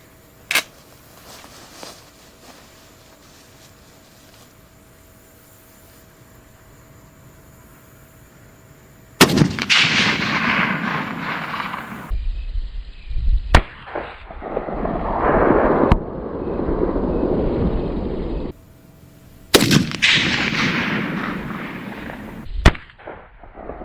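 Sniper rifle fired at a Kool-Aid jug about 1000 meters away: two heavy, loud blasts, each followed by a long rolling echo and rumble, with quieter outdoor background between the shots.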